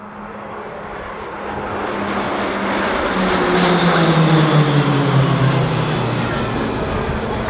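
Pilatus PC-9A propeller aircraft of the Roulettes display team fly in wedge formation over RAAF Base Point Cook. Their engines make a loud, sustained drone that swells and slides lower in pitch as the aircraft pass.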